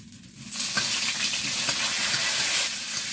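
Chili and bay leaf crackle and sizzle in hot oil in a wok, a bright, steady frying hiss that flares up right after they drop in and carries on close by with no talk.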